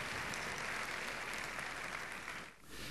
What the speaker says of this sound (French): Applaudissez-les, ils ne sont pas très nombreux,